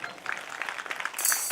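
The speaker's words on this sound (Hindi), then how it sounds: "ढंग जोरदार हर ताली बजाओ भाई" A crowd at a Hindi-language Manas family religious gathering in Chilhati, Bhanupratappur, Chhattisgarh claps with a steady, moderate patter that swells louder toward the end.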